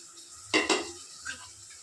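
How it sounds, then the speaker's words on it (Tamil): Vegetables cooking in a pan get stirred with a utensil, giving two sharp scraping clanks and a softer one later over a faint sizzle. "இதை நல்லா கிண்டி விட்டுட்டு நல்லா வேகட்டும்."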